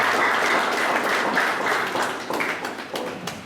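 Audience applause at a graduation ceremony, a loud close burst of many hands clapping that holds steady for a few seconds and then gradually thins out.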